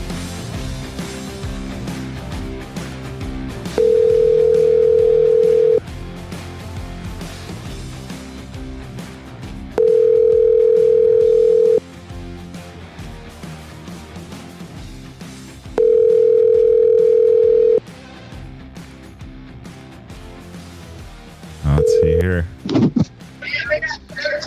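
A phone line tone sounds as a call is placed: a loud steady electronic beep repeats three times in long even bursts with gaps between, then a short broken burst as the call connects.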